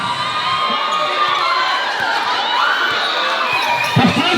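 A crowd at a basketball tune-up game cheers and shouts steadily and loudly throughout, with excited voices rising and falling and a brief thump near the end.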